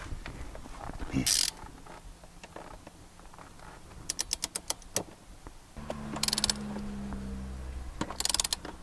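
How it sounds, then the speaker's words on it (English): A torque wrench with a 14 mm socket tightens front bolts on a Lexus GX460 to 27 foot-pounds, giving close rapid ratcheting clicks in bursts with sharp clanks between them. "I'm going to go ahead and torque these front bolts to 27 foot-pounds"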